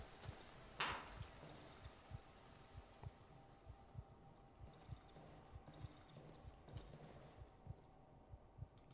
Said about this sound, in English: I hear footsteps that are not mine.